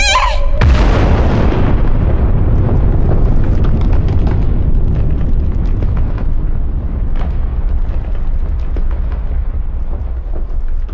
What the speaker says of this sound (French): Ça va exploser!